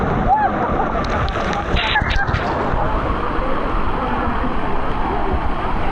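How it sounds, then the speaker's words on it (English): A heavy rush of water from a tipping bucket pours and splashes continuously at LEGOLAND Florida Water Park, loud and close, with excited voices calling out over the torrent. "It's so much water that comes down on you."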